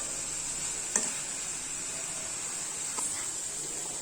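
Ginger garlic paste sautéing in a pan for egg keema, a steady bright sizzle with two brief stirring scrapes, close and continuous.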